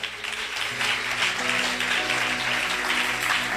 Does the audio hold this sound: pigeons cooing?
no